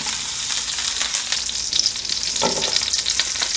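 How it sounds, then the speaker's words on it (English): Butter sizzles loudly in a hot pan with avocado oil, a dense, continuous crackling hiss heard close up with no talking. "I'm gonna just add a little bit more avocado sauce, avocado oil, and then we're going in with some butter."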